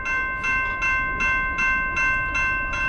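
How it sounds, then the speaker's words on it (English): A Norfolk Southern train sounds its horn as one sustained multi-tone chord over a rapid, regular rhythmic clatter of rail cars passing close by. "We got a horn show."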